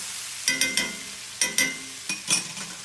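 Crushed tomatoes being stirred into a sauce in an iron skillet, with a handful of short scraping, clinking utensil strokes over a faint sizzle, close up and alone.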